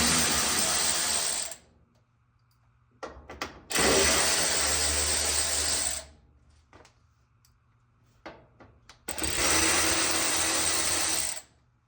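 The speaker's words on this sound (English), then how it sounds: "I'm using a 3/8 inch drive with a T20 Torx socket." A 3/8 inch drive ratchet with a T20 Torx socket works on a Maytag washer in three loud, sustained whirring bursts, with short clicks and handling sounds between them.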